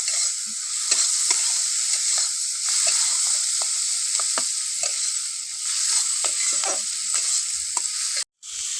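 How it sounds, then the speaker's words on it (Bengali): Fish frying in a kadai gives a steady close sizzle that runs without a break, with light scrapes of stirring over it and a brief dropout near the end. "মাছগুলো আমি বেশি কড়া করে ভাজবো না একটু নরম নরম থাকতে"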